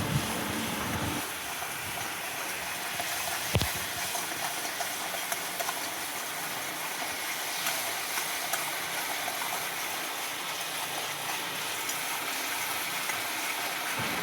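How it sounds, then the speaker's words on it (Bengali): Masala with sour yogurt sizzles in a pan on a medium flame while being stirred, a continuous close, even hiss with a brief knock near the start and no talk. "ক্রমশ মিডিয়াম ফ্লেমে এটাকে নেড়েই যেতে হবে যাতে টক দইটা ধরে না যায়।"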